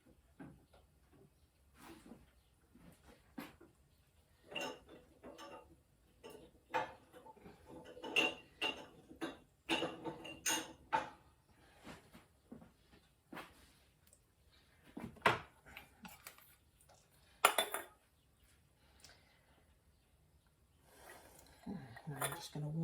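Glass canning jars clink and clatter as they are loaded into a canner while putting up buffalo meat, irregular sharp knocks and rattles scattered over about twenty seconds, some loud, with quieter handling noises between.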